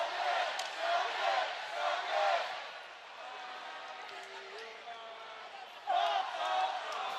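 A sellout hockey arena crowd in Jacksonville sings a song together, the many voices blended and echoing in the big hall, swelling in loud bursts and easing between them.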